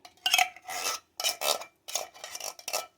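Cream of mushroom soup being mixed into a dish, with about six close, scraping strokes of a utensil against the pan in an uneven rhythm.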